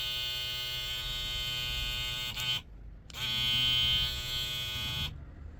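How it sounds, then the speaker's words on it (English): A Kemei KM 90-5 brushless saber hair trimmer runs with a steady high-pitched electric buzz and hum. It is switched off briefly after about two and a half seconds, restarts, then cuts out again near the end. "this is a saber trimmer. It's a brushless motor"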